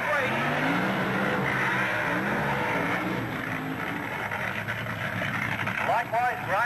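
Funny car drag racing engines at a 1987 Calder Park Australia versus USA meet, a dense sustained roar with blipped on-off throttle, heard under a commentator's continuous talk.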